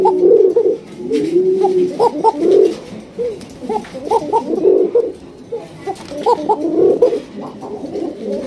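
Several pigeons coo close by, overlapping in soft throaty bursts that rise and fall repeatedly across the whole stretch, with no talking.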